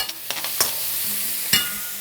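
Meat stir-fries with soy sauce in a wok, a close hiss of sizzling broken by several sharp scraping and clattering strokes of a spatula against the metal.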